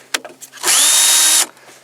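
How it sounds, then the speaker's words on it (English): A cordless XRP drill driver whirs at full speed in a single burst of just under a second, close and loud, after a few brief clicks and taps. "tried drilling concrete with this thing, and it just doesn't work without a hammer drill."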